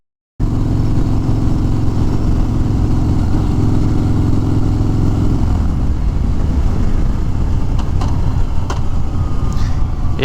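A 2021 Harley-Davidson Street Bob 114 motorcycle rumbles loudly and steadily, its low engine drone dominating close up, shifting in tone partway through as it rides on, with faint clicks later.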